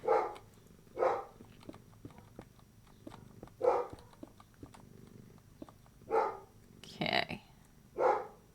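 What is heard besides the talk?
dog barking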